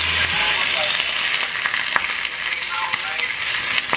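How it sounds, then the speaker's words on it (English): Food sizzling and crackling in a hot iron skillet, a steady loud hiss with scattered sharp pops, heard up close. "I am just heating up my iron skillet, and ooh, let me let y'all listen to this popping."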